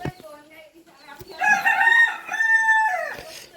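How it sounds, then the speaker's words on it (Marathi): A village rooster crows once in a long, loud call at close range, its rising harmonic cry ending in a drawn-out tail, with faint clucking from farmyard fowl beforehand. "कोंबडी बघा तिथे."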